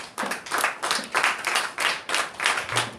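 A church congregation at a national seminar claps together in a steady rhythm, about two bursts of hand claps per second, fairly close and even in loudness, with no talking over it.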